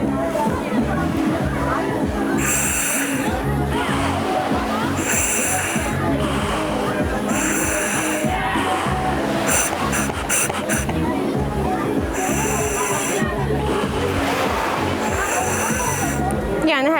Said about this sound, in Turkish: Bu elimde gördüğünüz regülatör. Hava alıp vermenize yarıyor.